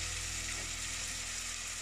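Onion frying in a pan with chicken juices over medium heat gives a steady, even sizzle, close and constant, with no voices.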